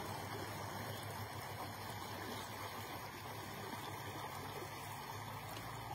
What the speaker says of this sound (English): You heard the bubbles of the stream, which is fantastic.